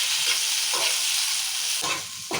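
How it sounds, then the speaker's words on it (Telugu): Tomatoes fry in oil in a pan for masala paneer curry, producing a steady close sizzle broken by a few stirring scrapes, with no voices. "టమాటాలు కూడా మంచిగా ఫ్రై కావాలి నూనెలో"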